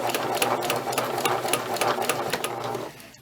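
A sewing machine stitches princess seams in fabric with a fast, steady, close mechanical chatter, running continuously for about three seconds and then stopping.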